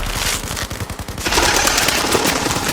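Dense automatic gunfire in an audio drama battle scene: rapid machine-gun bursts with sharp repeated cracks, loud and close, continuing without pause and growing fuller partway through, with no voices over it.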